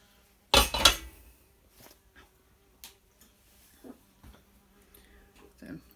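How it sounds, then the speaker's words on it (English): A wasp buzzes loudly past in a kitchen during chicken stock pressure canning in Weck jars, one short close burst followed by faint clinks and light taps. "So excuse the wasp that suddenly appeared."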